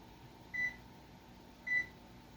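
Two short electronic beeps from an oven's control panel as it is set to 350 degrees in a home kitchen, spaced about a second apart against a quiet background hum.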